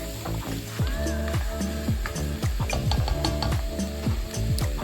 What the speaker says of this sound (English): Now that the meat has started to brown